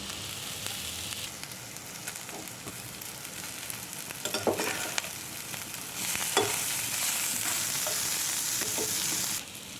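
Tender tamarind leaves tossed into a hot pan, a soft, steady sizzle that swells louder midway, with occasional scrapes and knocks of stirring and no voices.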